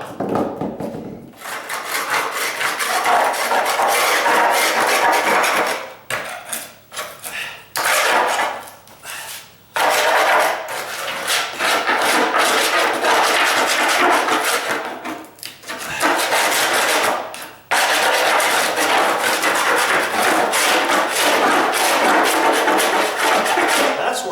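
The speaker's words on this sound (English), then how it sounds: "Working good, just scraping off little edges right there." Oak floor planking being scraped during a condo rehab, a loud close rasping scrape repeated in long strokes with brief pauses between passes, no talk.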